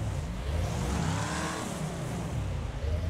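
Car engine in the demolition racing game Wreckfest, revving loud and close and rising then falling in pitch as it accelerates, with no talking.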